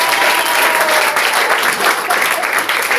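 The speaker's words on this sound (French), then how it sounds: "applaudissez pour vous maintenant" A French-speaking church congregation bursts into loud, dense applause, a steady unbroken wash of many hands clapping together close by for the full duration.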